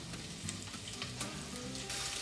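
Garlic and onions fry in a pan with a soft, even sizzle, a steady crackling hiss at low level throughout with a few faint pops.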